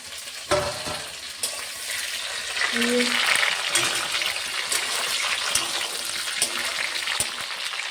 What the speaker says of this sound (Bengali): পেঁয়াজগুলো লাল লাল করে ভেজে নিয়েছি, এখন টমেটোগুলো দিয়ে দিলাম।